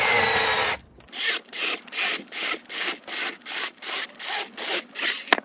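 A small OLMOLMO 8-inch cordless mini chainsaw cuts through a thin wooden stick: a burst of motor whine, then a run of about ten rhythmic rasping strokes, close and fairly loud.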